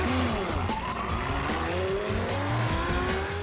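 Electric X1 sports car racing a Lamborghini on a track, loud steady motor drone with rising whine and tire squeal, sustained and close throughout without talk.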